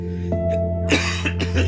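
A person coughs indoors from inside a house, a few rough hacking bursts with throat clearing, fairly close and loud over a steady low hum.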